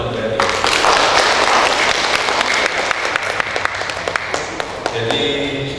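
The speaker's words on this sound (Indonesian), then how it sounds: "Tepuk tangan untuk Bank BRI." An audience at an Indonesian seminar on preventing digital fraud and phishing breaks into loud, sustained applause, many hands clapping densely before thinning to scattered claps as a voice speaks over the end.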